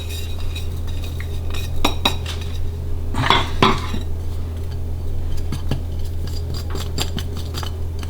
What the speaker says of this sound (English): I'm going to mix all the dry ingredients, put that there, give it a good mix